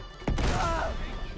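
A grenade explodes in the video game Uncharted 3: one sudden, loud blast followed by a rumbling tail that slowly dies away.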